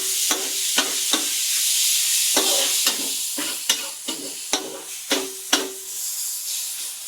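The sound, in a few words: stir-frying fermented black beans in a wok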